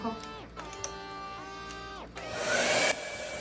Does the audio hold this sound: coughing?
no